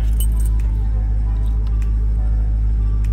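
A Jeep Trackhawk key jangles with light metallic clinks near the microphone over a steady low rumble from a vehicle, with brief scattered jingles through the clip.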